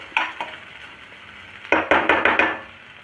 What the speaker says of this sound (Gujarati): હળદરને તળી લઈએ આપણે પહેલાં.